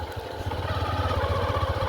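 A motorcycle engine hums steadily while riding, a low rhythmic throb at even loudness that cuts off abruptly at the end.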